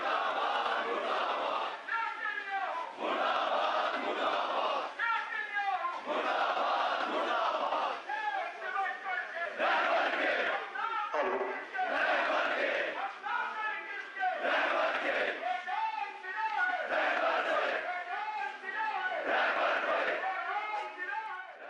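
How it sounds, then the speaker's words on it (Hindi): Crowd of protesters in Kargil chanting slogans in rhythmic, repeated call-and-response bursts, loud and sustained, with many voices shouting together in steady waves from start to finish. "ये करगिल की तस्वीरें हैं जहां पर बाकायदा तौर पर आज ईरान के हवाले से एहतजाज दर्ज कराया गया"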